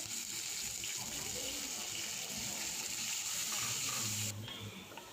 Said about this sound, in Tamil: பூண்டு நல்லா பொன்னிறமாக வறுத்தட்டிக்கும் நல்லா வதக்கிக்கோங்க